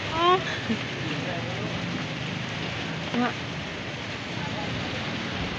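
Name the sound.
light rain drizzling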